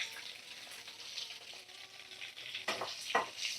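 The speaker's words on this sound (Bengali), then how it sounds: "তো চলো আলুগুলো ভাজা করে নিই।" Potatoes cut in large chunks fry in oil left over from frying meat with turmeric and salt, giving a steady close sizzle with a few louder crackling bursts near the end.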